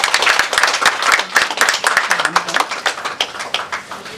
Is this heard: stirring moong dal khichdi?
no